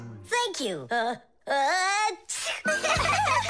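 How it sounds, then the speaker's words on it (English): A cartoon character's animated sneeze, a gasping build-up followed by a sharp burst, surrounded by expressive character voices in a children's animated show. "Fire didn't want to, but then his nose tickled and achoo."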